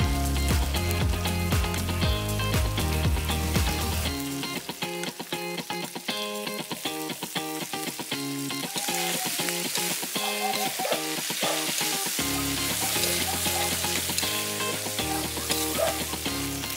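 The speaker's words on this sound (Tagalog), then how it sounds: "luya, bawang, siling berde, sibuyas, gisahin mabuti. Ilagay ang palakang karag." Frog meat sautéing in oil in a pan with ginger, garlic, green chili and onion, a steady loud sizzle with crackling and stirring scrapes that shifts in texture partway through.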